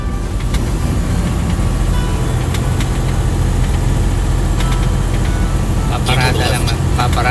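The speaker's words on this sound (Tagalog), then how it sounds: "Paparada lang natin tong truck natin." A truck's diesel engine idles steadily at a rest area while parking, a dense continuous rumble with faint rattles and a brief brighter hiss near the end; talk may be present.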